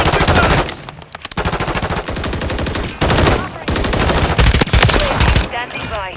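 Automatic gunfire in Call of Duty MWIII during a Team Deathmatch match on the Invasion map. Loud, dense bursts repeat in rapid rhythm for most of the stretch, with only short breaks between volleys.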